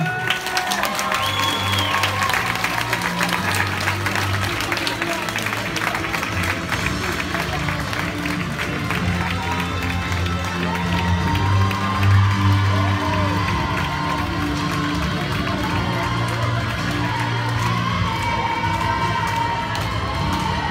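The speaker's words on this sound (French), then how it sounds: "Je vous demanderai d'applaudir encore plus fort." A crowd at a show jumping prize ceremony at the Open de France claps and cheers continuously, with shouts and children's voices rising over the steady applause.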